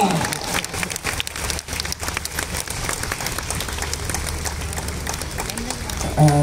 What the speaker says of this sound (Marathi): सर्वांनी टाळ्या वाजवून त्यांचं स्वागत. टाळ्या वाजवा.